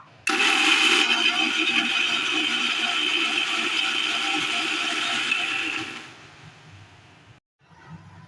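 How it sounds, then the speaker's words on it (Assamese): A kitchen mixer grinder blending poppy seeds, onion, ginger, garlic and green chili into a paste, a loud, steady whirring motor running for several seconds before winding down and stopping. "এতিয়া মই মিক্সিত পেষ্ট কৰি ল'ম।"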